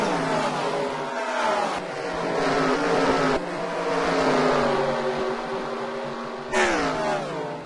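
Dirt track race cars running at Richmond in a UPS Dirt Car Series race: a loud, continuous roar of several engines, their pitch rising and falling in long sweeps as the cars lap past, with no one talking.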